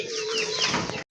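Large Gopalganj pigeons kept for sale make a brief, close burst of cooing and fluttery bird calls that cuts off abruptly, with no talking.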